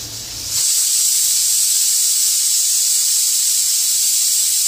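A pressure cooker holding mutton and potatoes lets out a loud, continuous hiss of steam that starts abruptly after a brief moment and holds steady, close by.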